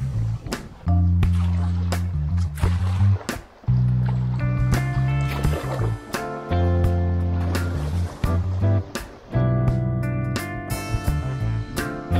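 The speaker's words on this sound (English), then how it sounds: "we carried on paddling downriver to our next stop" A canoe is paddled downriver on the Ahura River, with repeated close splashes and strokes of paddles in water over a continuous wash of moving water.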